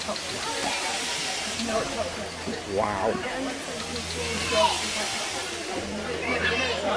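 Steam hisses steadily from a fairground steam yacht ride at Hollycombe Steam Museum, a continuous broadband rush with swelling surges, heard up close while a person exclaims over it.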